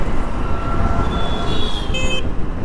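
A Hero Karizma motorcycle horn sounds in a short, bright beep, ending in a sharper blast, over steady engine and road noise while riding.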